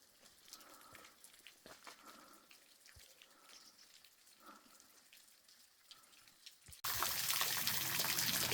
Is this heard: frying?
no